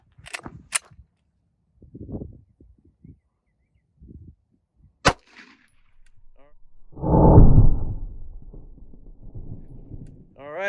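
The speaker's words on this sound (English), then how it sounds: "take a shot with the 9mm and see what happens" A 9mm pistol fires one sharp, loud shot into drywall backed by ballistic gel. A few faint clicks come before it, and a burst of voices and movement follows a couple of seconds later.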